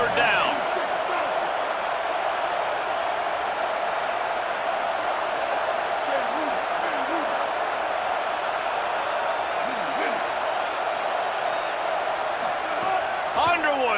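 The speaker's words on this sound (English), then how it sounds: "Decibels rising as the crowd gets behind this defense on third down." A stadium crowd roars continuously at a football game on a third down, a dense, loud, sustained wall of noise with scattered whoops and whistles, steady throughout.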